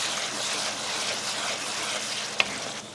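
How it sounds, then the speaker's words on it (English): Half a cup of red wine poured over browning meat to deglaze the pan, giving a steady hissing sizzle with a bubbling liquid wash up close and one brief clink near the end. "we're going to deglaze with a 1/2 cup of red wine"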